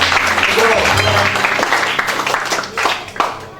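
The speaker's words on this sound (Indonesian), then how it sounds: "Kita kasih tepuk tangan dulu ke Kak Evi." A church congregation at a youth service claps together, a loud, dense wash of applause that gradually thins and fades, with some voices mixed in.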